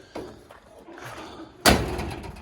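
A door on a 1950 International rat rod truck with no door handles swings shut with a single solid slam near the end, after some faint handling and rustling noises.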